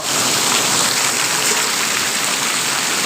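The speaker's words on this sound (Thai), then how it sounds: "นี่ฝนนำลงมาใส่อีกแล้วพี่น้อง" Heavy rain pours down on a farm garden plot in Thailand, a dense, constant roar of water that stays loud and unbroken throughout, with no voices.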